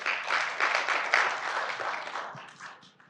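An audience at a university event on hip-hop's cultural influence claps, a few seconds of moderately loud, even applause that tapers off.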